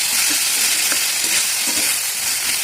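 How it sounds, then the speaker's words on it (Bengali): A spice paste for a beetroot and carrot curry fries in a pan with a loud, close, continuous sizzle, broken by soft stirring scrapes. "যখন এটা ভাজা হয়ে যাবে মশলাটা,"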